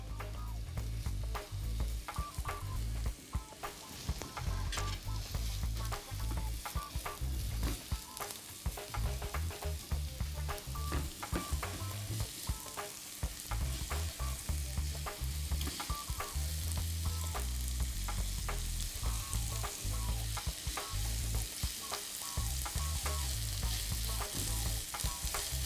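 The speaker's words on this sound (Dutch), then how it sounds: "Kijk, ik hoor hem sissen." Steady, loud sizzling of onions frying in a hot pan, with occasional stirring scrapes and clinks, continuous throughout with no talking.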